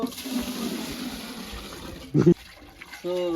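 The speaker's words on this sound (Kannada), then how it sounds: "ನೀರು" Water runs in a kitchen while egg biryani is prepared, a soft steady rush that fades and is followed by a few short, sharper clunks and tones.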